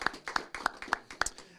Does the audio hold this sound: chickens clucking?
no